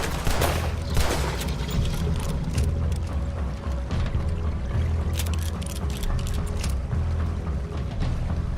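Dense gunfire in the video game Red Dead Redemption 2, a continuous roar of overlapping shots and rattling bursts, loud and sustained with no pause.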